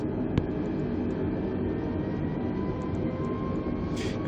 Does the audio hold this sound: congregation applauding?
no